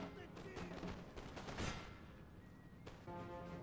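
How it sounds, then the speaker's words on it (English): Musket volleys in Napoleon Total War crackle as a dense, continuous fusillade of overlapping shots, loud and busy throughout, with a sharper burst in the middle. "Open fire, bros!"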